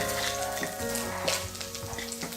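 Dry red chillies crackle and sizzle in hot oil during South Indian tempering for raw rasam, a steady close hiss with small pops, under a faint tonal hum.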